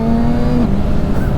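Kawasaki Ninja ZX-6R engine revving high, then dropping sharply as the quick shifter snaps through a gear change, loud and close with wind rush.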